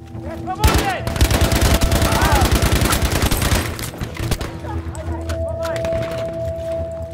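Rapid automatic gunfire in the shooter Battlefield V, a dense loud burst of shots for several seconds, then sparser single reports with a voice talking over the battle.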